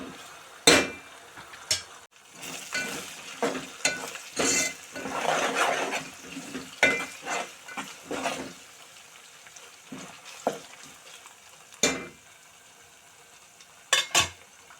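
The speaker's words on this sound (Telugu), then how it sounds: "మంచిగా ఫ్రై చేసుకోవాలి ఆనియన్." Onions fry in a pan for chicken fry under a soft, low sizzle, broken by repeated scrapes and clacks of stirring that come at irregular intervals, some sharp and close.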